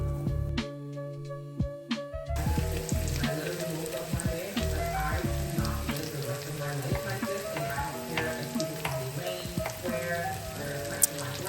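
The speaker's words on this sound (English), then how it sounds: "now we've got the mushrooms busy sauteing. I'm frying them up." Steady sizzling of porcini mushrooms frying in oil and butter in a hot pan, continuous and fairly loud, with occasional stirring clatter and a faint musical tone at the start.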